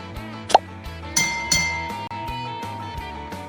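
Heat riser valve on a 1958 Edsel Corsair being worked by hand, giving a few sharp metallic clinks and taps with ringing decay, close and otherwise quiet.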